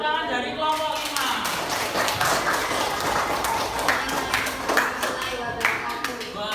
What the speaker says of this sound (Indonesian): beri tepuk tangan dari kelompok 5